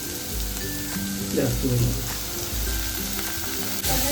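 Steady crackling sizzle of tomato frying with onion in hot oil, close and continuous, with someone speaking briefly over the frying and some stirring clatter.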